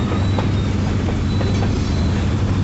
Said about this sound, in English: this train's going all the way back to the crossing I usually film at